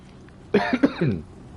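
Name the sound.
cough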